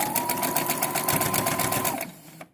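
A sewing machine stitches a fabric face mask with a fast, even needle rattle up close, then slows and stops just before the end.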